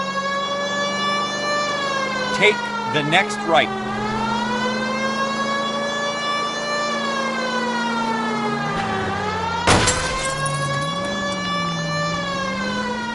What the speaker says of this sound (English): Use the goddamn siren.